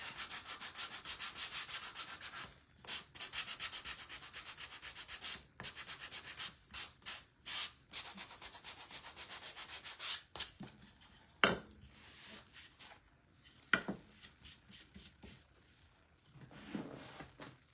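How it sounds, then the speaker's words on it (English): Sanding over a painted craft mug from a DIY kit, a dry scratchy rubbing heard in uneven bursts of short strokes with brief pauses, close and fairly quiet, with no talking. "So I am gonna just kind of sand over it just a little bit."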